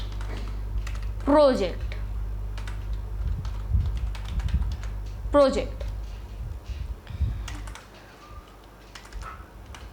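Typing on a computer keyboard into a Notepad file, a near, fairly quiet patter of irregular key clicks running through most of the stretch, with a person talking over it.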